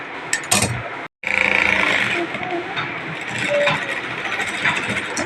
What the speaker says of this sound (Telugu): మళ్ళీ దీన్ని డబుల్ స్టిచ్ వేసుకోవాలన్నమాట